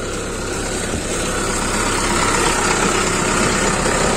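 A farm tractor's engine idles while parked before sowing, a steady, loud, close rumble that holds constant throughout with no speech.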